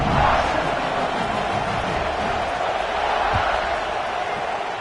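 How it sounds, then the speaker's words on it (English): A college football stadium crowd keeps up a loud, continuous roar and buzz after a touchdown, a dense wash of many voices that stays level throughout. "this crowd is buzzing after that last score"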